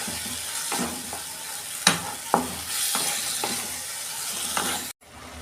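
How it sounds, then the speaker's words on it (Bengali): Spice paste frying and being stirred in a pan with a steady sizzle, broken by repeated scraping strokes of a spatula, two sharper clacks, then a sudden cutoff near the end. "মশলাটা ভালো করে কষে নেবো,"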